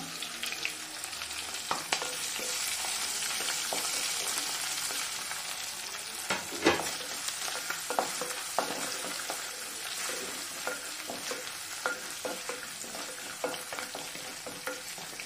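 Crushed ginger and garlic frying in a pan, with a continuous close sizzle and occasional scraping stirs and spoon taps throughout.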